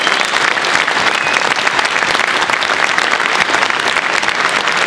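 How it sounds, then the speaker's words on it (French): An audience applauds the volunteers at the Utopiales festival awards ceremony, with thick, continuous clapping filling the whole stretch at close range and no letup. "je vous demande de les applaudir s'il vous plaît"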